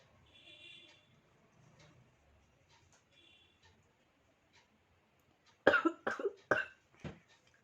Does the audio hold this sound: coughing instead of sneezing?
yes